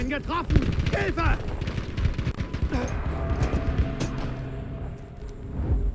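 Rapid automatic gunfire in Battlefield V, a fast stream of sharp shots rattling through the clip while someone talks excitedly over much of it, the firing continuing beneath and after his voice.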